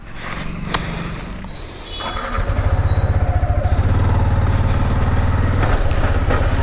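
A motorcycle engine on a road ride thumps loudly and close, settling into a steady, fast pulsing beat after a rougher start.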